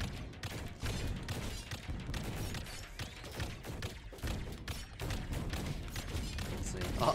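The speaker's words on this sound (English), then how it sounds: "a lot more cannon fire all of a sudden" Rapid, dense barrage of cannon fire in the video game Neon Sundown, with sharp thumping blasts repeating almost nonstop and layered over one another at steady volume.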